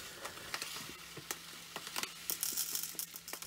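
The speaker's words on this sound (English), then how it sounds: "as you're pouring the salt granules in" Dry dishwasher salt granules pour into a Beko dishwasher in short gritty bursts, a soft crackling trickle that grows denser and hissier toward the end, close and fairly quiet.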